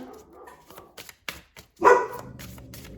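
A dog barks indoors, a few sharp, fairly close barks with one loud burst near the end, alone without talk.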